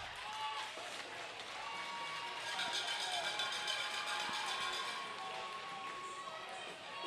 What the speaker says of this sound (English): Great applause from the fans here for that great pressure by Sioux City in the Waterloo zone.